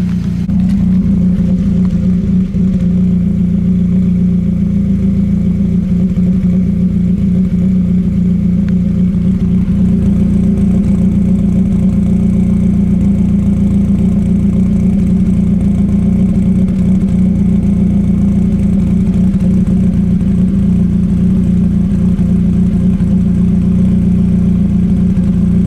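An unmapped car engine idles at a steady, low tick-over, rumbling loud and close with a constant hum. The note holds level throughout and no one speaks.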